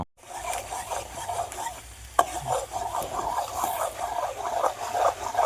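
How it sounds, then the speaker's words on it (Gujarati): Spices crackle and sizzle in hot oil as they are stirred, a busy spattering with a sharp clink partway through and no speech. "વઘારવાનું ચાલુ કર્યું છે."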